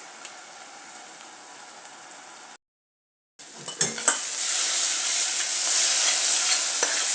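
Masala is fried in a pan for fish curry with green chillies, crushed red chillies and ground black pepper. Low sizzling is followed by a brief silent gap, then a louder, steady sizzle comes in with clattering spoon stirs, and there is no speech.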